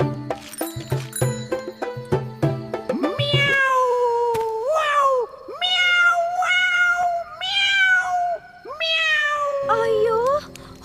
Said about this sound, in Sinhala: අයියෝ හොර පූසෙක් යාවිත් නේද?